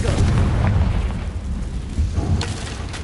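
A Confringo spell in Hogwarts Legacy erupts as a booming fiery blast, a loud low rumble at the start that fades, followed by a second sharp burst near the end.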